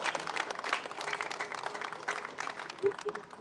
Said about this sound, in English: There's that applause.